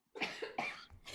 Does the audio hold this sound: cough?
yes